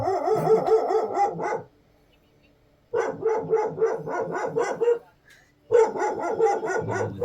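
Dogs barking at night near the Jim Corbett jungle in Uttarakhand. Loud, close, rapid volleys of barks come in three bursts, separated by short quiet gaps.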